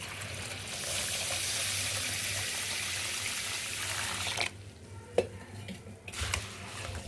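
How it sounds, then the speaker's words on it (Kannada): Water streams steadily into a bowl of rice mixed with soda and salt, a home rice-flour preparation, for several seconds, then gives way to quieter wet stirring and a few soft clinks, close and with no talking. "ಇದಕ್ಕೆ ನಾನು ನೀರು ಹಾಕ್ಲಿಕತ್ತೀನಿ"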